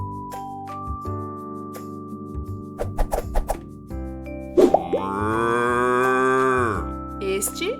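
A cow lets out one long, loud, close moo in the middle of the clip, with a children's cartoon jingle of plinks and boings before and after it.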